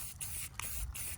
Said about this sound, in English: I'm spray painting cloths